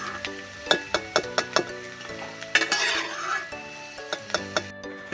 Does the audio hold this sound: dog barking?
no